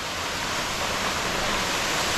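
Waterfall at the Punch Bowl reached after a long hike, a dense, steady roar of falling water filling the air evenly and loudly, with no voices.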